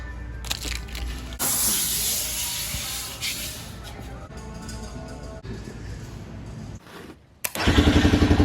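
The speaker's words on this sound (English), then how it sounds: "The starter's not even spinning. It just cranks instantly." A Honda Fourtrax ATV engine cranks with a hissing whir, goes quiet for a moment, then suddenly catches and settles into a loud, pulsing idle near the end.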